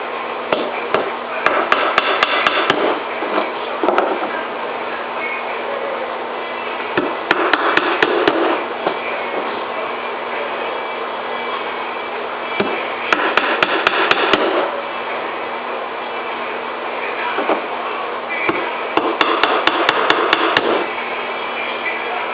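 Brads are hammered into wooden beehive frames in four separate bursts of quick, sharp taps, each burst a tight cluster of strikes, over a steady background hum.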